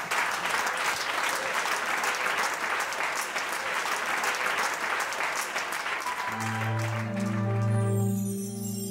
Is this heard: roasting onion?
no